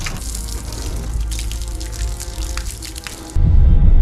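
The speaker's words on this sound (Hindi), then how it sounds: "पानी का अरेंजमेंट हो गया तो क्यों ना गाड़ी धो ली जाए" Water gushes steadily from a hose or tap while a dirty car is washed outdoors in Uttarakhand, with a louder, heavier splash surging near the end.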